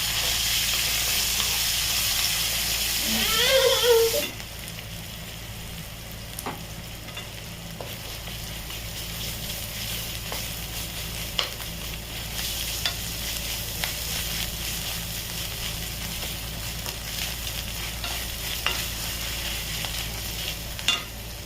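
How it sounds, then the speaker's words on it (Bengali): Whole garam masala spits loudly in hot oil at first, then a softer, steady sizzle of mutton frying continues with occasional scrapes and clicks of a spoon in the pot, no voices. "তেল গরম হয়ে গেছে তো এতে গরম মশলা ফোড়ন দিয়ে দিয়েছি"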